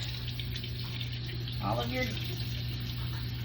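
Sponges and rags are rinsed under a running tap at a sink, a steady close stream of water with a low hum behind it and a short burst of voice partway through.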